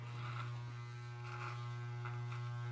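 A cheap Conair electric beard trimmer buzzes steadily close to the microphone with a strong mains-like hum, its tone shifting slightly as it passes through facial hair during a quick trim.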